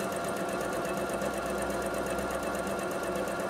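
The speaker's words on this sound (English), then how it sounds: "I'll let my machine do all of the work." A Bernette B37 sewing machine runs steadily on its own while stitching a buttonhole, a continuous close mechanical whir with rapid needle chatter and no talking.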